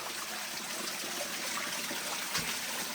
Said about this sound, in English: found a source of water